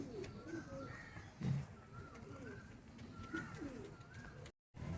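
Several domestic pigeons perched up high at a home loft coo softly and intermittently, with low murmuring calls repeating over a steady outdoor background, moderately near.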